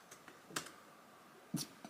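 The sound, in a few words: computer keyboard keys pressed while editing in LumaFusion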